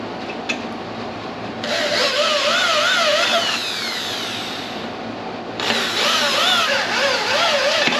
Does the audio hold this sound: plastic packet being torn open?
no